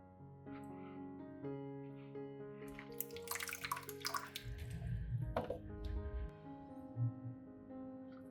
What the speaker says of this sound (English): water slowly until the growing medium is evenly moist, and then allow the excess water to drain out completely